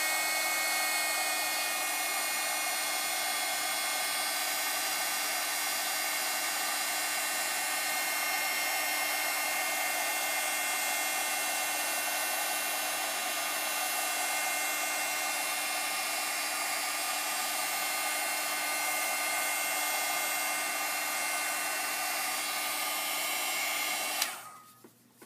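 Handheld heat tool blowing hot air onto a coffee lid for an ATC art piece, a steady loud whooshing hum that runs unbroken and close, then cuts off abruptly near the end.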